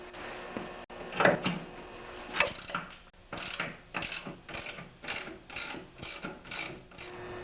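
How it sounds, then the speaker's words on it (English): A ratchet wrench clicks in repeated quick bursts while loosening nuts on a Toro snowblower auger assembly, sharp close metallic ratcheting strokes coming in a steady rhythm after a couple of clanks. "to finish removing the auger assembly, you have to remove the two nuts over here"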